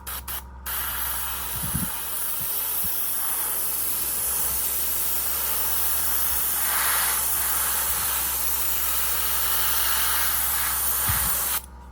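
AK Super Stainless paint hisses from an aerosol spray can in a long continuous burst lasting nearly the whole stretch, close and loud, with a short spurt at the start and faint knocks underneath.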